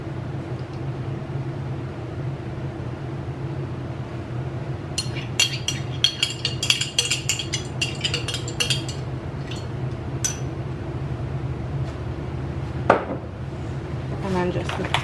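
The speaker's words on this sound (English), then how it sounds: "And then just mix it all up." A utensil scrapes and clinks against a dish while a freezer meal is stirred together with dairy-free Alfredo sauce, bursts of clattering over a steady low kitchen hum, ending in a sharper clank.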